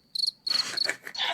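Crickets chirp in a short sound-effect burst, bright high trills in quick pulses, close and clear with no voices.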